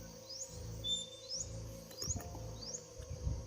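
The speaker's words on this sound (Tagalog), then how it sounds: "Yung mga ibon na po yung nadinig natin dito." Repeated rising chirps from birds a short distance away, four or five quick calls over steady low rumble and faint background noise.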